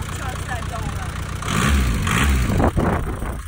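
A truck engine revs loudly close by, its low rumble swelling midway and holding, while people talk over it.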